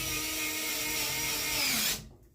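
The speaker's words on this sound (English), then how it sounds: "Take your new screws, screw those back in." A power screwdriver drives new screws into a replacement door knob mechanism, a steady close whirring hum that winds down and stops abruptly near the end.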